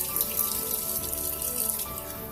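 Tap water runs steadily from a kitchen faucet, filling cups of water for cooking, a close, continuous splashing stream with no talk over it.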